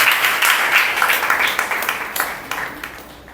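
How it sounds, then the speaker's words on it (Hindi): A church congregation claps hands together in praise and thanks, a loud dense burst of applause that gradually tapers off, with faint scattered voices beneath. "ताली बजा के हम प्रभु का धन्यवाद।"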